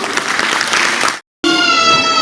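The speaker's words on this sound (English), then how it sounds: "Please clap for her." At a Kidzee preschool annual function, the crowd applauds Mrs. Anjana Deva with a full burst of clapping. The clapping cuts off abruptly and is followed by a sustained tonal sound.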